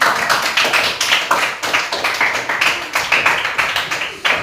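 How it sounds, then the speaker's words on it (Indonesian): A classroom of students claps for a presenting group, with loose, rhythmic clapping in quick, regular bursts that sounds close and moderately loud throughout. "Boleh tepuk tangan untuk kelompok 3."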